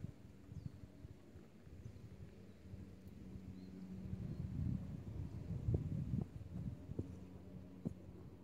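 Wind sweeps across a par-3 golf course in Hawaii, a low, faint rumble that buffets the microphone and swells in gusts toward the middle, with no voices.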